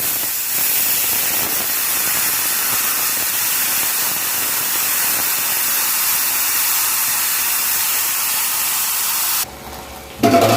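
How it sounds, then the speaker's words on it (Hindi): Steam is released from a pressure cooker of red masoor dal as a loud, continuous, close hiss that lasts about nine seconds before cutting off abruptly. "अब इसका भाप जो है रिलीज कर देंगे।"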